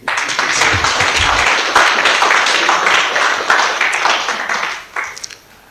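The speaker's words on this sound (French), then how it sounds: "On peut applaudir." Ceremony audience at a certificate presentation claps in a lively, dense burst with scattered individual claps standing out, then thins and fades toward the end.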